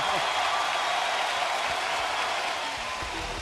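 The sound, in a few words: basketball arena crowd cheering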